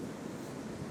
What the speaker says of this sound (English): It's showery, it's windy.